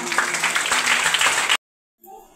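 A church congregation claps loudly in thanksgiving to Jesus at a prayer centre, a dense burst of clapping that cuts off sharply after about a second and a half, followed by a faint voice.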